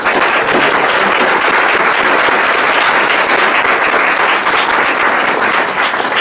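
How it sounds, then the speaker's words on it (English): An audience at a game developer event applauds loudly and steadily, a dense, sustained wash of many hands clapping at close range without a pause. "Give them one more round of applause."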